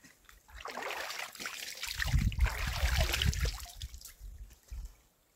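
A small stream of clear water trickles and gurgles into a still pool in the wilderness, heard up close as a steady, fairly quiet burble that swells and fades.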